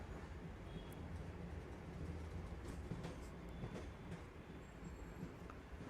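Quiet train ambience from the video game Honkai Impact 3rd, a soft continuous rolling rumble with faint clicks and occasional light squeals, steady and low in level throughout.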